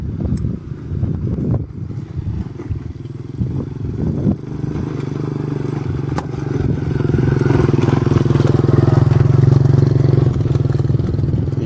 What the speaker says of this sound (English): Uh-oh, comes a motorcycle.